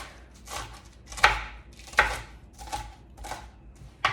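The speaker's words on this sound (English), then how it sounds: "So I'm just going to chop up this a little bit." Knife chopping radicchio on a cutting board in a home kitchen, a handful of distinct close, crisp strikes spaced irregularly about a second apart, with no talking.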